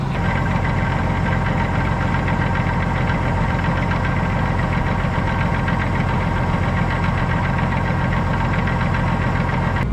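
A tractor engine idles steadily at close range, a loud continuous low rumble with a rough knocking throb and no pauses.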